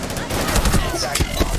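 Bursts of gunfire in a tactical shooter video game match fire rapidly in quick succession, loud and close over a dense background of game noise.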